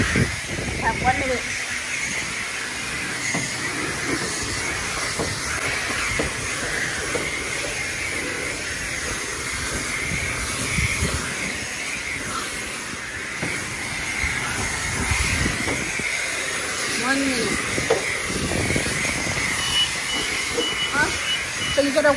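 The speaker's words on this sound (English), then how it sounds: "Foamy enough, then you switch back to high pressure rinse." High-pressure rinse spray from a manual self-serve car wash wand in Flagler Beach, Florida, a steady hissing wash running continuously throughout, with people talking over it.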